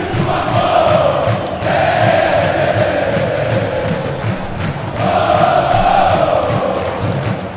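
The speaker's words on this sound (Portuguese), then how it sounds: "Que energia a torcida do Vasco São Januário, hein?" Vasco fans cheer and chant in the stands at São Januário stadium, a loud, massed crowd roar that swells in repeated waves of sustained singing and shouting.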